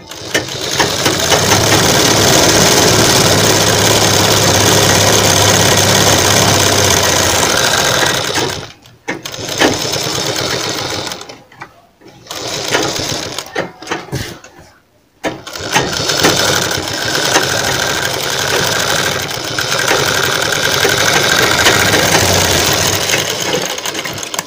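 Electric sewing machine stitching piping onto a kurti, a fast, loud continuous motor whirr running in long bursts with a few short pauses and restarts, close up.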